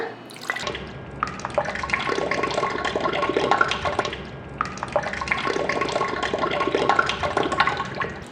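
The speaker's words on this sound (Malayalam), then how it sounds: "ഞാൻ ഒന്നര കപ്പ് വെള്ളം ഒഴിക്കുകയാണ്" Water pours steadily into a pressure cooker holding masala in a home kitchen, a loud gushing splash in two long bursts with a short break between them, no voices.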